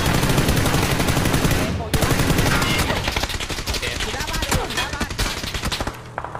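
Rapid bursts of PUBG gunfire, loud and continuous, with automatic weapon fire rattling throughout and voices talking over the shooting.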